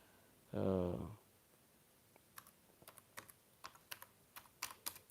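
Computer keyboard typing: a quick series of light, sharp key clicks arriving in an uneven rhythm, close and fairly soft, following a short burst of speech at the start.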